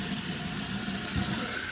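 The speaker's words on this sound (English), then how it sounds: "So we're going to turn on some water." Water runs steadily from a kitchen or bathroom sink tap, a continuous close hiss and splash with no pauses and no talking.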